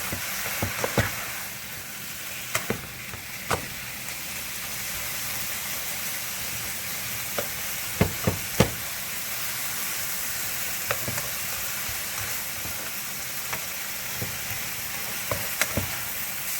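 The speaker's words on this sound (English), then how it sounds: "we're just going to stir it and get it all incorporated together and cook the meat until it's not pink anymore" Ground turkey sizzles steadily in a hot pan for a baked spaghetti casserole, with a constant frying hiss broken by sharp scrapes and clacks of a spoon stirring the meat at irregular intervals.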